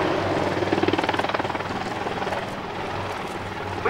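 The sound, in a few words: attack helicopter hovering at airshow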